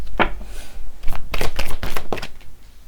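Tarot cards shuffled by hand for a reading, a run of quick papery riffles and flutters in uneven bursts, close and fairly loud, with no speech.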